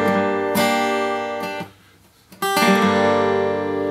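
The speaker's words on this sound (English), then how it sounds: "the song opens up with a strum from the top down" Acoustic guitar strummed fast from the top down, a bright ringing chord struck several times, dropping to near silence mid-way before a final strum rings out loud and sustained.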